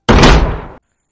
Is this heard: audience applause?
no